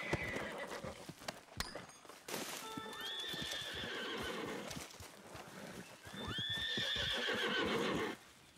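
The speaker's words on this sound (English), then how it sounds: "those horses are freaking out" Horses whinny and neigh in agitated, high-pitched bursts over scuffling hooves and background game sounds in Red Dead Redemption 2, one long cry followed by another.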